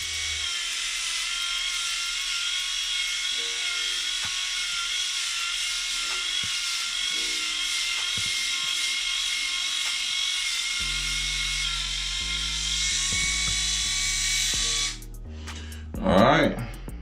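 A Freedom Grooming electric shaver runs over a lathered, shaving-cream-covered head, giving a steady high whine close up that shifts pitch partway through, with a brief louder rustle near the end.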